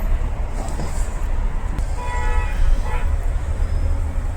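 Rumbling train noise with a brief horn toot in the middle, heard amid busy station ambience.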